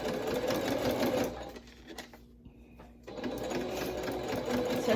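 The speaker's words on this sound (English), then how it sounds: "I always go over the elastic and do the reverse stitch over the elastic so it keeps it pretty sturdy" Sewing machine reverse stitching over elastic on a fabric face mask, a steady mechanical whir that stops briefly midway and then starts again, close and fairly quiet.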